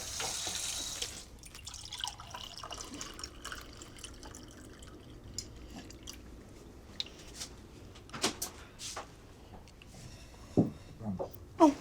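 Water runs from a tap into a sink in a home, a steady low splashing and trickling throughout with a few clinks and knocks of dishes or a door, and no voices.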